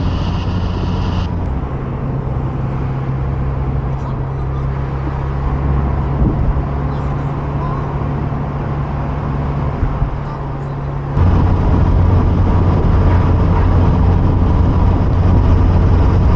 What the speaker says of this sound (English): This is actually where the car, the Miata, is giving her best.